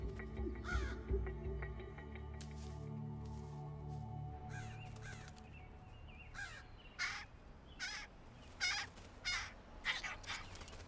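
Crows cawing outdoors, several harsh caws spaced apart and growing more frequent toward the end, heard over a low steady background rumble.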